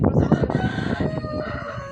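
Several laying hens cluck and a rooster crows nearby, with a steady farmyard murmur and faint voices.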